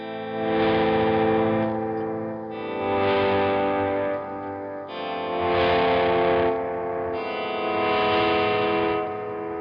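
Distorted electric guitar playing a section without a whammy pedal, heavily effected with chorus and echo, sustained loud chords in four swelling phrases, no voices.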